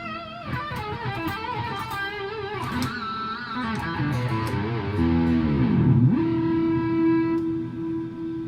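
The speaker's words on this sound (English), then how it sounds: "That's all that lovely reverb coming from the Ocean Machine" Electric guitar played through an Ocean Machine reverb pedal in a studio amp rack, a melodic phrase of bent and sustained notes washed in long reverb, ending on one held note that rings out alone at steady volume.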